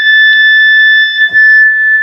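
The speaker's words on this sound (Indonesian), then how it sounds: "Nah ini alarm mode. Jadi langsung transmit juga di sini." A Quansheng UV-K5 handheld radio in alarm mode sounds a loud, steady, piercing electronic tone that holds nearly unbroken, with a brief dip and faint handling clicks partway through.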